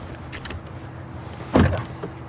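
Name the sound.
car power door locks engaging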